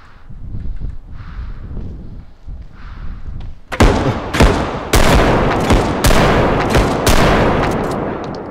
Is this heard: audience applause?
no